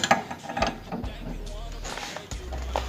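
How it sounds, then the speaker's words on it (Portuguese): A size 19 wrench turns an old, long-seized nut on a VW Beetle door, giving a few close metallic clicks and clunks as the nut breaks loose, with light handling noise between them. "coloco essa chave 19 nessa porca e consigo dar um torque maior, ó, pra soltar"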